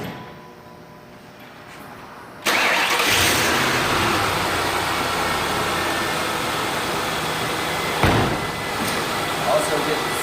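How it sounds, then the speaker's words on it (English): A car engine cranks and catches abruptly after a quiet moment, then settles into a loud steady idle with a brief rev later on, during a repair after replacing the ignition coils; a voice speaks over it. "So stay right here and start the car up."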